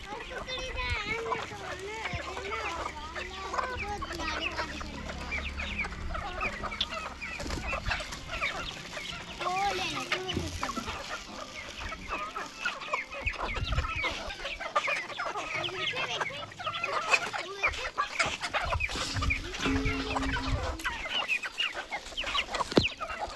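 Chickens and a rooster cluck and call repeatedly in a poultry yard near new cages, close and scattered over nearly half a minute, with someone talking over them much of the time.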